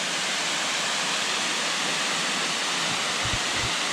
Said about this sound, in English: So here is another look at Ricketts Falls.